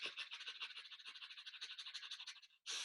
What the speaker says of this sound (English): Breathing out 10 times fast fire breath.